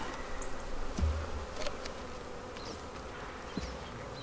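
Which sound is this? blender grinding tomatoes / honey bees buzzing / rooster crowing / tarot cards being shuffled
honey bees buzzing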